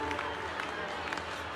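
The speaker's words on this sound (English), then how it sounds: "Applause." Crowd applause in the Zenless Zone Zero video game, a dense steady wash of clapping from many hands that fills the whole short moment without a break.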